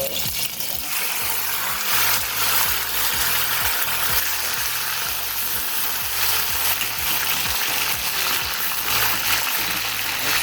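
Pork sears in a hot pot for BBQ pot roast, giving a loud, steady, close sizzle and spatter with faint stirring clatter throughout and no talk.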